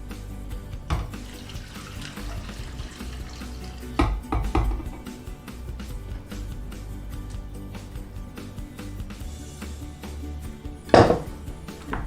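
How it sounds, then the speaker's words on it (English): Broth being poured into a soup pot of spinach for lasagna soup, a steady faint running liquid sound with a few clinks of pot and utensils and a louder splash near the end. "To that, we are now going to add our broth."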